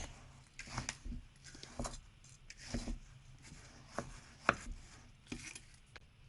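A ground almond and honey mixture for an oriental cake is stirred and pressed in a bowl, giving a series of soft, irregular scraping and thudding strokes with brief pauses between them, close and quiet.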